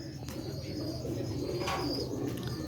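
Pigeons coo in low, continuous rolling calls amid a steady background hum and faint chirps.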